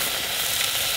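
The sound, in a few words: frying foraged seafood in a pan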